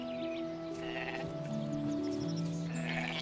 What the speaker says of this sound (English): They sound like sheep, but they don't really look like sheep